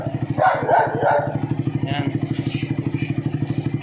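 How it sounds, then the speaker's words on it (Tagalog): A dog barks a few times early on over the fast, steady putter of an idling Raider 150 motorcycle engine, and a person speaks briefly. "Pasensya na kayo sa aso namin, medyo maingay."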